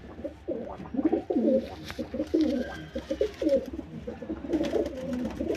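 A male white Jiriya pigeon is held in the hand and gives a run of repeated low, throaty coos with rustling from the handling. It is close and moderately loud, and no one speaks.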